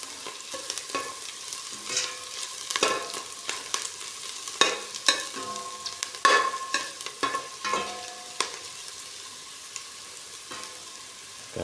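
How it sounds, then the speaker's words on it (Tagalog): Chicken soup cooking in a pot is stirred with scattered scraping and knocking strokes, while a quiet, continuous sizzle runs underneath. "Haluin natin guys para maluto na"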